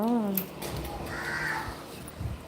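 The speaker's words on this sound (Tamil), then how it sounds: "இந்த காக்கா இருக்கு பாருங்க காக்கா" A crow caws a few times close by, harsh calls mixed with a person talking over them.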